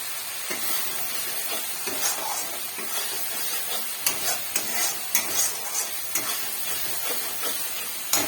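Spiced masala for kochur loti (taro stolons) with prawns sizzles steadily in hot oil in a pan, broken by frequent scraping stirs of a spoon, close and continuous with no talk.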